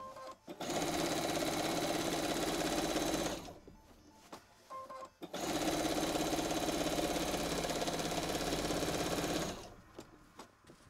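A sewing machine doing free-motion quilting runs in two long steady stitching bursts separated by a short pause, close, loud and continuous, with a brief start at the end.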